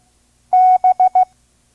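Morse code for the letter B sent as a clean steady tone: one long dash followed by three short dots, crisp and close, with silence before and after.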